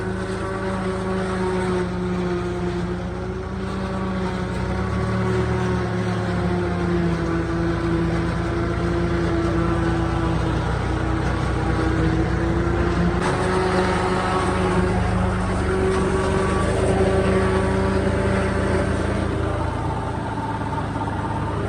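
Tractor engines of a 3630 and a 5911 labor in a pulling contest in a maize field, a loud steady drone with strong low harmonics holding for the whole stretch, pitch wavering slightly as load shifts, no voices.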